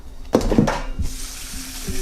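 Cold tap water pouring into a cooking pot holding pork, whole garlic and quartered onion, a steady near rush with a brief clatter of the pot at the start.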